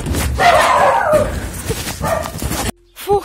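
A dog barks and yips near a house, loud and close for nearly three seconds, then the sound cuts out abruptly before a short final noise.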